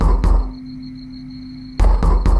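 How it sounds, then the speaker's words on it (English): Loud knocking on a door in a video game: a pair of heavy thuds, a pause of over a second, then three more sharp knocks, close and with no voices. "you hear a loud knocking at the door."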